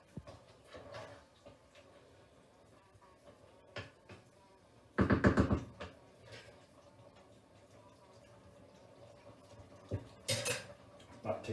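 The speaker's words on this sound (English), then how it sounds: "And just combine your salt and pepper into your lasagna mix." Metal spoon stirring salt and pepper into a lasagne meat mix in a pot, with scattered scrapes and clinks building to a louder burst of stirring midway and another near the end.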